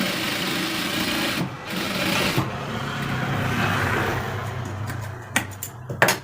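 A sewing machine stitching a trouser belt runs in a steady mechanical whir for several seconds, then stops and restarts in short bursts near the end.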